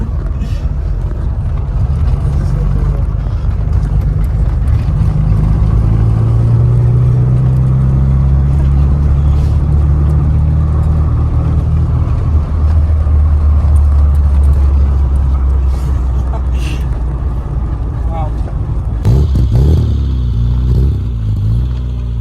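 A classic car with an odd, bus-like steering angle cruises at about 35 mph during a classic car auction event in Scotland, its engine and road rumble a loud, steady drone throughout with a brief clatter near the end.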